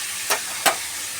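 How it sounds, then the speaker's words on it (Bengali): Turmeric powder, panch phoron and a dried chili frying in hot oil, a steady hissing sizzle broken by two quick scraping stirs. "গরম করে 5 ফোড়ন আর একটা শুকনো লঙ্কা দিয়েছি, আর হলুদ গুঁড়ো দিয়েছি"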